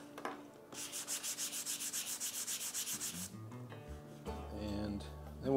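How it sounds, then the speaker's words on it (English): Shelves for a wooden golf ball and challenge coin display case being sanded by hand, with steady rhythmic back-and-forth rubbing strokes for about two seconds, close and clear, followed by talking. "So that's all we're gonna do, is just sand them up."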